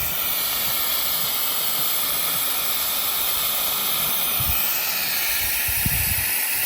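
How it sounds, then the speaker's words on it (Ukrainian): An overcharged LiFePO4 battery vents steam in a loud, continuous hiss that holds steady throughout, with a few faint low thumps underneath. "Почав парувати на всю катушку."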